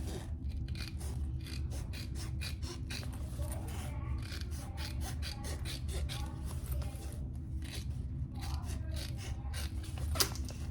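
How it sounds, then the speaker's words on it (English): Scissors snip steadily through the zipper gusset fabric of a hot pink waist pack, a close run of quick crisp cuts and light rasping rubs that repeats without pause. "I think I'm gonna trim my entire zipper gusset a little."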